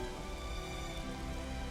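Steady rain pattering on surfaces in the video game Xenoblade Chronicles 3, a soft, even hiss of drops with faint background music tones and no talking.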